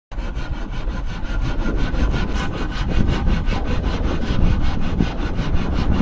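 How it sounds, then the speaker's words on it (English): Handsaw cutting through a hard wooden beam on a floating house on a lake, giving a steady, rhythmic rasp of back-and-forth strokes that sounds close and fairly loud and runs continuously with no talking. "He positions his handsaw to begin the cut. Rhythmic sawing fills the quiet morning air on the lake."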